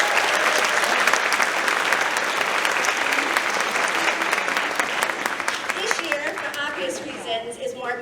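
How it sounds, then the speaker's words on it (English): Audience at a high school senior awards ceremony giving sustained applause for the parents, a loud crowd of clapping hands that gradually thins and fades, leaving a few voices toward the end. "a huge round of applause for all of your parents"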